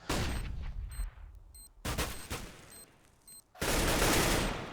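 Bursts of AK-47 rifle fire in a Counter-Strike match, several rapid volleys separated by short pauses, loud and close, ending in a sustained noisy burst.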